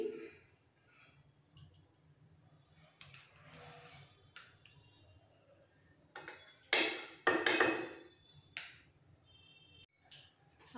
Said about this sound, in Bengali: এই বড় চামচে 2 চামচ দই দিচ্ছি।